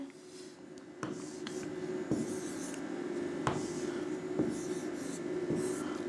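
Pen scratching numbers on paper while working a division and simplification problem, a run of close, soft strokes and taps that repeat at irregular intervals over a faint steady hum.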